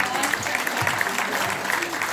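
Applause from a business summit audience after a panel discussion, a brief, fairly dense patter of clapping hands at steady volume with faint voices beneath.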